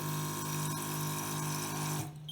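A TKM 9961 S glass-ceramic coffee machine runs after its cup button is pressed, giving a steady, close mechanical buzz with a constant pitch that cuts off near the end.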